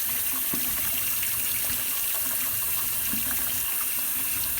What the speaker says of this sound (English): if I fill up a sink full of water